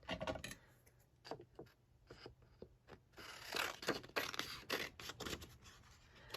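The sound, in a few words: scissors cutting scrapbook paper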